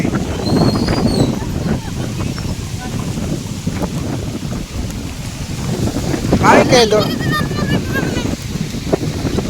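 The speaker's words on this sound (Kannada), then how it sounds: "ಗಾಳಿ ಚೆನ್ನಾಗಿ ಬೀಸ್ತದೆ." Strong wind blows outdoors among trees, buffeting the microphone in uneven, rumbling gusts, with a few brief faint chirps and murmurs partway through.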